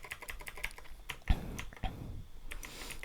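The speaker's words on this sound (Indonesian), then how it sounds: "Kalau teks kan ini kita misal ngetik" Someone types on a computer keyboard with quiet, irregular key clicks and a couple of heavier key strikes, close by and soft, with no talk.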